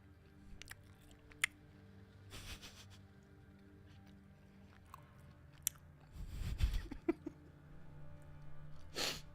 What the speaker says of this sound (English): Did you guys hear the chewing then?